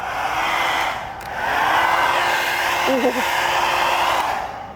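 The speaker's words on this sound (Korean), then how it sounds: "전력 소모가 큰 드라이기까지 준비를 해봤는데요" A hair dryer running off the power outlet of a Hyundai Ioniq 9 electric SUV blows a steady, loud airy roar for several seconds, with a brief exclamation from a person partway through.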